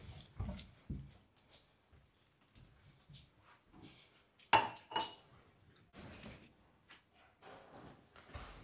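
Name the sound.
glass being set down among dishes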